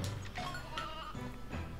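Sheep bleating in the PlayStation game Toy Story 2, several wavering bleats in a row, clear and close, with no talk over them.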